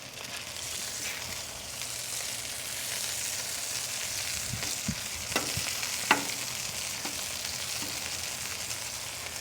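Ground pork and onions frying at about 300 degrees on an American Made Muscle Grill: a constant close sizzle, broken by a few sharp spatula scrapes and taps as the mix is kept moving.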